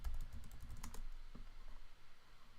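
Keys clatter in quick bursts on a computer keyboard while entering router commands, close and quiet, then the tapping thins to a few scattered presses.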